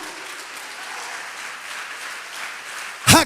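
A church congregation claps in praise to the Lord, a soft diffuse patter of many hands heard at some distance, ending with a brief loud voice burst at the close.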